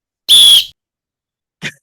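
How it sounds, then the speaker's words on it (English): A referee-style whistle gives one loud, sustained shrill blast, followed after a pause by a much shorter, fainter second toot, with no talking around it. "I need you to blow the whistle."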